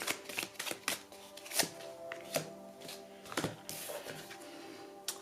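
Oracle cards are shuffled by hand for a tarot reading, with quick papery riffles and soft slaps in uneven bursts, close and clear with no speech.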